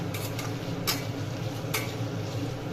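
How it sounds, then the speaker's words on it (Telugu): Tempering spices, including coriander seeds, crackle in hot oil, giving a steady close sizzle with a few sharp pops standing out above it. "ఇలా పోపు వేసుకోండి."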